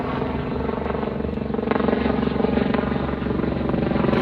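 A helicopter flies overhead, its rotor beating in a steady, rapid chop over a low engine hum, loud and sustained throughout.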